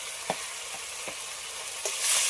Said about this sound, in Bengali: সবগুলো একসাথে একটু ভালো করে কষিয়ে নেব।